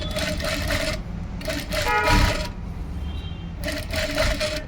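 Sewing machine stitching lace onto a blouse sleeve in bursts, three runs of rapid rhythmic needle chatter separated by brief pauses, close and clear.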